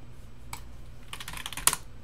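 Quick keystrokes on a computer keyboard as a command is typed, a few soft scattered clicks then a short burst of taps ending in one sharper key press, close and quiet.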